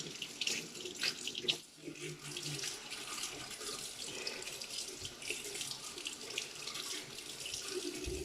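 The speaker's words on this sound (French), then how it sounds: "J'ai passé ceci sous l'eau parce que ça va me servir pour mes blancs d'œufs." Water runs steadily from a kitchen tap while a utensil is rinsed under the stream, a continuous close splashing hiss with brief shifts as the item moves through the flow.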